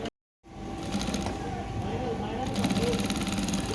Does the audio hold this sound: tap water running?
no